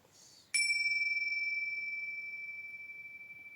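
A single bright bell strike rings out clearly and decays slowly, its pure tone sustaining for several seconds in quiet surroundings.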